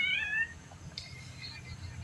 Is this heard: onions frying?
no